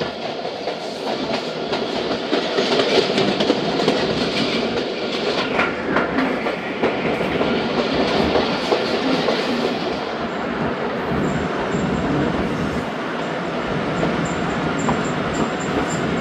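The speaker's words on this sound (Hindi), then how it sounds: "करोड़ रेलवे स्टेशन पर गाड़ी का अराइवल हुआ है जनाब" A passenger train pulls into Karor railway station in the evening, a loud continuous rumble with clickety-clack of wheels and a brief screech, close by with no talk.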